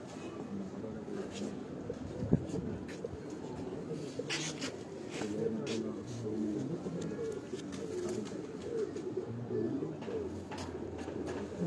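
Pigeons cooing in a loft kept by pigeon fanciers, a steady low murmur of soft repeated coos running throughout, with scattered background noises and faint voices in the distance.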